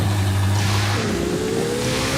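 A car engine revs in the Driving Empire racing game, including a Koenigsegg Jesko in stock form, giving a steady loud drone with a rising pitch sweep midway and no talking.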